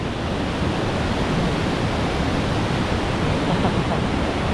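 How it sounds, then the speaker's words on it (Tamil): Waterfall at a living root bridge in a green forest in India, a loud, continuous rushing roar of falling water that stays steady throughout, close and dominant. "நீர்வீழ்ச்சியை பாருங்கள்"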